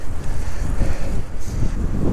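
Wind gusts roar across the microphone of a delivery cyclist riding through town, a steady low rumbling buffet that stays loud and constant with no talk.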